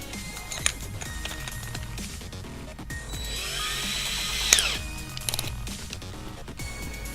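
A power drill driving screws through a jig while building a corner material storage unit, with bursts of whirring motor noise, a rising whine in the middle and tool clatter around it.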